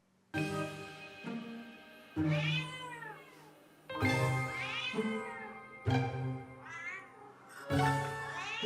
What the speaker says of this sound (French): he meows completely differently, and this is what it sounds like then